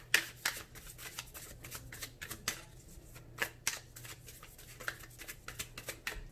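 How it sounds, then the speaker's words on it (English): A tarot deck is shuffled by hand, close crisp riffles and slaps of cards repeating in quick irregular bursts, with no talking. "If it takes too long for a card to pop out, I will cut the deck."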